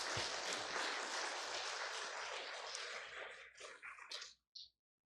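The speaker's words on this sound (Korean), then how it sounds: "우리 잠시 우리 큰 박수로요 환영하고 또 위로할 수 있었으면 좋겠습니다." A church congregation at Sunday worship claps to welcome a family, dense applause that fills the room for several seconds, then thins to scattered claps before stopping.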